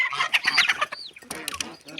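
Sick chickens in a coop give close, irregular clucks and short squawking calls in quick bursts.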